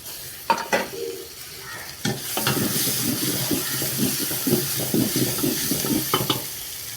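Ginger and garlic sizzle loudly in hot oil in a pan for mushroom biryani, with a spoon stirring and scraping against the metal in quick, repeated strokes.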